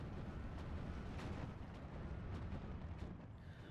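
Incoming 122mm artillery shells explode in Steel Division 2 as a faint, distant, continuous rumble of overlapping booms with no clear pauses.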